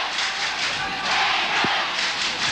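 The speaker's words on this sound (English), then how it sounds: "Listen to the crowd. They really love it." A broad crowd roar rises and falls at a 1981 rugby league match between Penrith and Manly, a packed stadium cheering as one continuous wash with a dull thump near the end.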